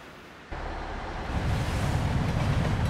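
A train in the video game Project: Mist rolls along, a low steady rumble that starts abruptly and swells louder after the first second, continuous and fairly close with no voices.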